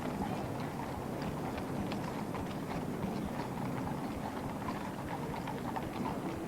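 Horse hooves at the Trooping the Colour parade, many hooves clip-clopping in a steady, quick rhythm, heard at a distance beneath a low crowd murmur.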